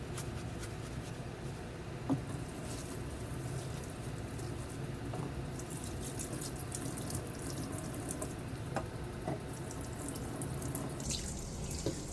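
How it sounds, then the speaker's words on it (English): Running tap water in a sink as freshly collected eggs are washed, a steady close splashing stream with a few faint drips and knocks, no talking. "these are the eggs that we just collected. Let's wash them."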